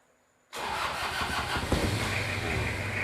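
Toyota Kijang 2L diesel engine, freshly rebuilt, cranks and catches abruptly after near silence, then settles into a loud, close, rattling idle with no talk.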